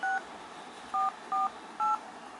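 Short bursts of telephone keypad dialing tones from Windows 10 smart dialing, four separate beeps with brief gaps, heard alone and clear.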